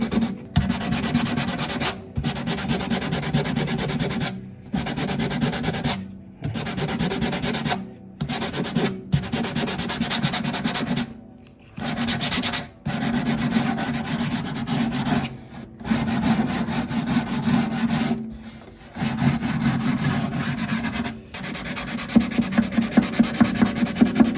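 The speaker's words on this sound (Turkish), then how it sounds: "kalın zımparadan inceye doğru küçülterek çiziklerini alarak" Sandpaper works over the wooden body of a broken oud under repair, making close, steady rasping strokes in a long rhythmic series, each broken by a brief pause.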